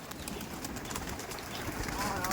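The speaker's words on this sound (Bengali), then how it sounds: "দেড়শো পিস পায়রা ছাড়া হচ্ছে" A flock of about 150 Giribaz pigeons is released from a loft in Duttapukur, with cooing and fluttering birds filling the air nearby while someone talks over them.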